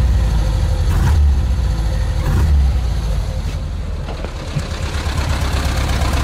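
Volkswagen Super Beetle engine idling steadily just after a start, a low continuous rumble with faint rhythmic knocking, close and fairly loud, with no other sounds over it.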